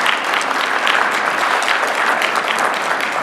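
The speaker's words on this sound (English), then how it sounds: "give yourselves a round of applause for your continued support of this" Dense, steady applause from an audience at a graduate exhibition and experience design thesis reception, many hands clapping at once with no breaks and no speech over it.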